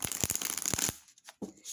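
Heavenly Bloom tarot cards, a longer-than-standard deck, being hand-shuffled in a quick run of close papery slaps and flutters, then a few softer taps as the cards settle.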